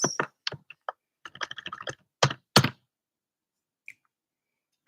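Someone types on a computer keyboard during a live chat stream: sparse, irregular bursts of crisp keystrokes in short clusters, separated by near-silent gaps, with no voices.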